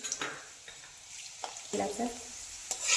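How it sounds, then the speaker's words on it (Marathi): Raisins frying in hot oil for a Marathi chivda, a close, steady sizzle with scattered crackles and a few soft stirring scrapes, no one speaking. "मनुके मनुकेही लगेच तळले जातात"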